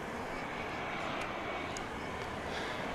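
A Boeing 737-900 airliner at DFW International Airport gives a steady, moderately distant engine roar and rush that holds evenly throughout, with no talk.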